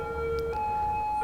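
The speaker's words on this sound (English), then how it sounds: "never free of the freaking cop car noises" A police car siren in the Cities Skylines city-building game wails in steady tones that shift pitch partway through, sounding fairly close and continuous with no talking.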